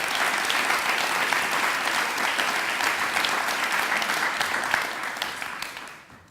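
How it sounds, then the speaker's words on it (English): An audience claps enthusiastically in a sustained burst of applause that fades out at the end. "So please give them another round of applause."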